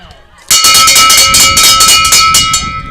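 A bell clangs repeatedly and close by to signal the final lap of a girls' track championship race, bright ringing strikes in quick succession that start suddenly and keep sounding with a ringing tail.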